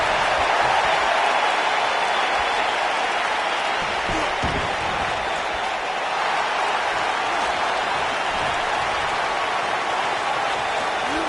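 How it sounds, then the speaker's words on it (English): A wrestling arena crowd in a PS4 wrestling game roars and applauds in a dense, constant wash of cheering that stays loud and even for the whole stretch. "I don't remember the last time I heard a more passionate crowd than the one we have here tonight."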